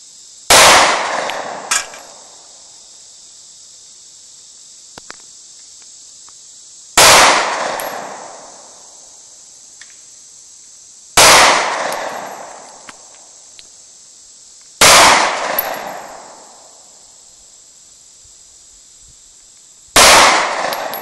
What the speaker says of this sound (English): He's shooting first. 6 rounds in the center target.